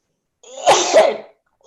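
A single sneeze at close range in a room during a public meeting, a sharp two-part burst lasting under a second, followed by a brief faint sound afterward.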